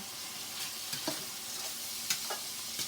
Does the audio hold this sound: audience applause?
no